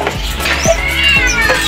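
Cats meow loudly and close by in several overlapping, drawn-out cries over a short burst.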